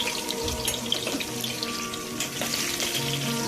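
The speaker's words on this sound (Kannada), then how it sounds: "ಇವಾಗ ಈರುಳ್ಳಿ ಹಾಕ್ತಾಯಿದ್ದೀನಿ. ಅದೊಂಚೂರು ಕೆಂಪಾಗುವರೆಗೂ ಹೀಗೆ ಬಿಡಬೇಕು. ಒಂಚೂರು ಫ್ರೈ ಆಗಬೇಕು." Onions sizzle and fry in hot oil with pepper and cloves for khushka, a steady, dense crackle that carries on unbroken at close range with no talking.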